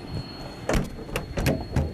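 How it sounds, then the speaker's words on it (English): The upper door of a T-1 aircraft is swung shut and latched, giving a series of close metallic clunks and clicks over faint background hum, with no one talking. "Now we'll close the door."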